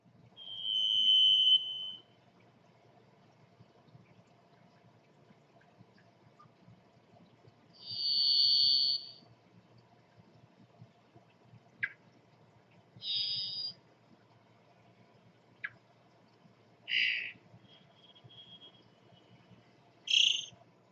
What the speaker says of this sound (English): Long minor key whistles repeated after deliberate pauses.